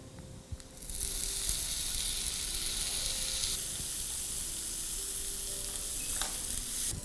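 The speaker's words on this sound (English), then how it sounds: "Next, we're going to add in the chopped tomatoes." Chopped tomatoes drop into a pan of sizzling onions and slit green chilies for squid masala, setting off a loud, steady broadband sizzle that swells after a soft start and holds close without any talk.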